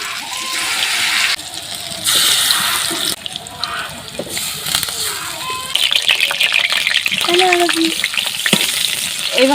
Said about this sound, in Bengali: এবার বাকিগুলো আমি ভেজে নিচ্ছি।